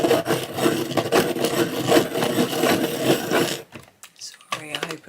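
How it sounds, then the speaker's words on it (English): A dowel sharpener grinds a coloured pencil in a loud, continuous rasping whir for several seconds, then stops, leaving quiet handling noises. "Hang on, I've got a dowel sharpener. I'm going to use that."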